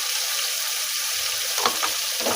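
Capsicum sabzi frying in a pan gives a steady, close sizzle, with a few soft scraping stirs near the end.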